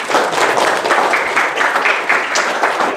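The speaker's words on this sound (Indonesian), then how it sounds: "Maka beri tepuk tangan dulu buat jenengan dulu dong." An audience in a mosque at an Eid al-Fitr gathering applauds with dense, steady clapping that holds loud throughout, with no talk over it.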